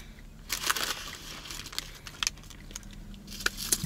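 Lukewarm KFC fries are chewed close to the mic, giving soft, irregular crunchy bites and mouth noises in a quiet room.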